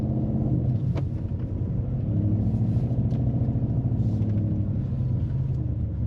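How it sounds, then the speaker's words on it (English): Deep, steady V8 exhaust rumble from a 2025 Mercedes-AMG SL 63 S, a continuous low engine roar that holds loud and even throughout with no speech over it. "you can hear the roar of the V8 exhaust"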